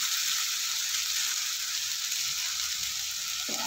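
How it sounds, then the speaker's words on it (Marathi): Potato frying in ghee on a high flame for sabudana khichdi, a steady close hiss and crackle of sizzling throughout, with a brief stir near the end. "मोठा गॅस ठेवून मी हा बटाटा चांगला परतून घेत आहे"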